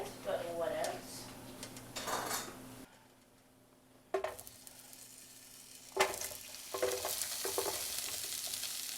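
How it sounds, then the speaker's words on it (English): Zucchini with Italian seasoning sizzles in an oiled pan over medium-high heat, giving steady frying hiss with stirring and clinks of utensils against the pan. A brief quieter gap breaks it midway. "Hear that sizzle."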